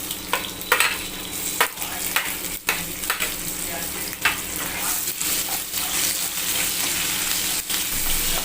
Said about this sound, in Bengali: পেঁয়াজগুলো দিয়ে দেব।